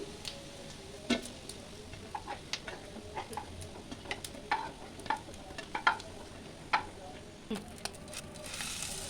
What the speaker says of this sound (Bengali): বাকি মাছের ডিমগুলো আমি এইভাবেই ভেজে নিচ্ছি।